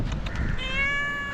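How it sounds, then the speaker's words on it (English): A street cat in Galle, Sri Lanka gives a single drawn-out meow close by, rising then easing off, with faint rustling before it. "It's a street cat."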